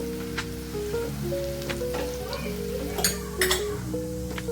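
Turmeric and masala fry on a low flame in a pan while being stirred, giving a soft, steady sizzle with light scraping and faint tonal background sounds underneath.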